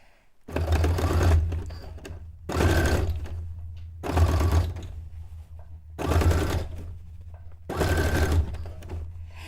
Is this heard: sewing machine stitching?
yes